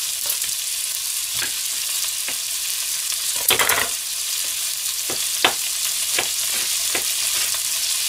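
Chopped green onion stir-fried in a pan, a loud steady sizzle with scattered sharp clicks and scrapes of stirring throughout, no talk.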